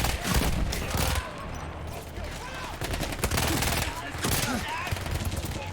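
Sustained gunfire from a Battlefield 1 firefight, dense overlapping shots and bursts rolling on continuously for several seconds, loud and close with a busy battle backdrop.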